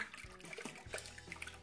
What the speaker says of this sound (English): Just gonna rinse that a little bit while the witch hazel dries.